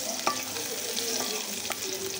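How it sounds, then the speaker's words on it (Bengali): Onion frying in a pan makes a continuous, close sizzle, broken by a few clicks and scrapes as a spoon stirs it. "নাড়াচাড়া দিয়ে একটু পেঁয়াজটা ভাজা ভাজা হলেই"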